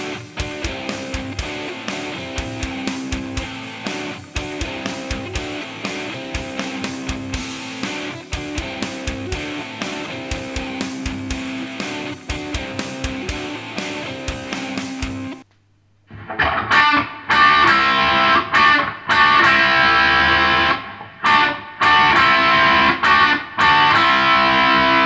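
An electric guitar with distortion plays a lick drawn from the Dorian mode, a steady run of picked notes followed after a brief pause by a louder, denser phrase.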